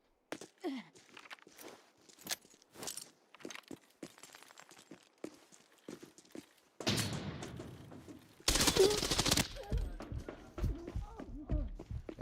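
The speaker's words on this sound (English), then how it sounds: "I heard an AK out there." Rifle shots from an AK in a first-person shooter game, with scattered sharp cracks and footsteps. Two dense, loud bursts of fire come late, and a voice talks quietly at times.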